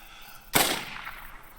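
A single sharp gunshot fired at a piebald duck in the Call of the Wild hunting game cracks out after a quiet moment, then fades with a short echoing tail.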